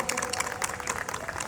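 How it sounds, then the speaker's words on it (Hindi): Enthusiastic applause from the audience at the opening of a charity gala, a dense, steady patter of many hands clapping throughout the short stretch. "एक बार जोरदार तालियां"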